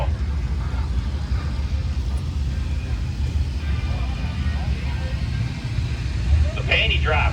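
Vintage drag racing car engine at America's oldest drag strip, a loud continuous low rumble filling the whole stretch, with crowd-like talk mixed in and a brief higher burst near the end.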